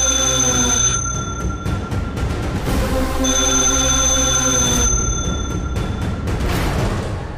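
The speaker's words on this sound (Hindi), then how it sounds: "ये मूसा भाई का टेलीफोन हो सकता है देखो कौन है" A telephone rings indoors in a dramatic scene, with steady repeated bell tones, loud and close, over a constant background of music or room tone.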